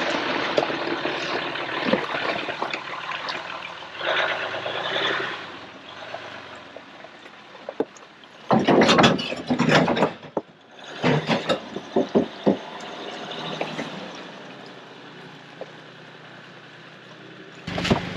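An off-road overland vehicle crawls through a small creek, engine rumbling under splashing and sloshing water, with several louder bursts of water and thumps as it dips down into the crossing.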